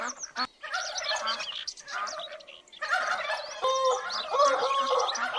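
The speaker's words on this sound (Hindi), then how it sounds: "ये आ गए टर्कीज." Turkeys at a zoo or park gobble repeatedly in bursts of rapid, warbling calls. Several birds sound fairly close and overlap one another against a quiet background.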